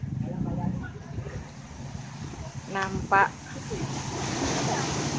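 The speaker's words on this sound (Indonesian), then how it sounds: "debur ombak memecah pantai" Waves breaking against a shore of large stacked boulders at Sanur beach, Bali, on a clear afternoon, a steady near wash of surf with wind noise, someone talking over it.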